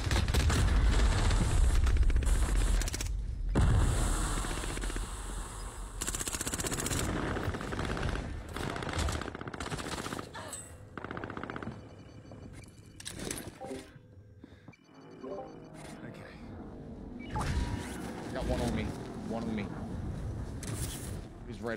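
Video game gunfire with rapid automatic bursts, single shots and explosive booms, loud and dense at first, then sparser bursts, mixed with players talking over the action.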